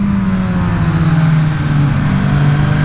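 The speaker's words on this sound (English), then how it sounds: "Open up that throttle and that 2005 spec GSXR 1000 engine, it's got some balls to it" A Suzuki Katana motorcycle with a 2005-spec GSXR 1000 engine accelerates hard, a loud, steady engine drone rising slightly in pitch under throttle, close and without talk.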